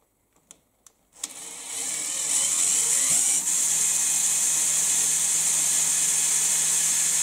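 An electric drill spins a stator under test, starting with a few faint clicks and then holding a loud, steady high-pitched whine with no talking.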